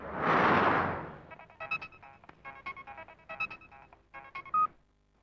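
A telephone number being dialed, heard as a short whoosh followed by a quick series of distinct electronic keypad tones, clear and close in an otherwise quiet room.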